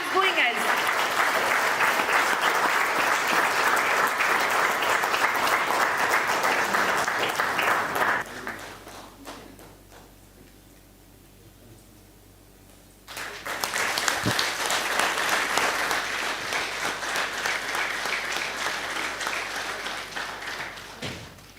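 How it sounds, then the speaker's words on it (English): Audience applause at a TEDx salon event, loud sustained clapping for about eight seconds, a quieter lull, then another strong burst of clapping that carries on to the end. "Keep the claps going, guys."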